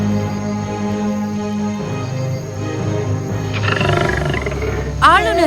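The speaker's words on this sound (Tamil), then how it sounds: "அப்போது ஒரு கர்ஜனை கேட்கிறது. காட்டில் இருந்து சிங்கம் கம்பீரமாக வந்தது." A lion's deep roar swells under a continuous narrating voice in a dramatized fairy-tale soundtrack, rising toward the end where a brief higher animal cry cuts in.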